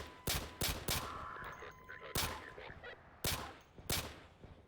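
Pistol shots from a Call of Duty weapons mod in Garry's Mod, five sharp cracks spaced irregularly with short echoing tails, fairly close and loud over faint game ambience.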